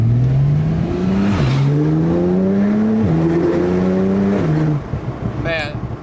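A modified Porsche Turbo S engine revs hard through several gear changes, each pull rising in pitch before dropping at the shift, loud and close inside the car, with a person talking briefly near the end.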